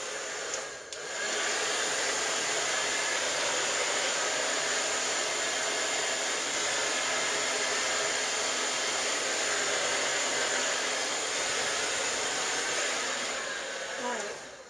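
A hair dryer blows hair during round-brush styling, a loud, steady whooshing roar that starts after a brief click and holds evenly throughout, with no talking.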